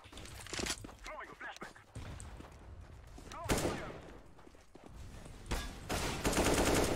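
Rapid gunfire bursts in Counter-Strike on the Dust 2 map, loud and repeated in fusillades and machine-gun runs, with players talking over the shooting throughout.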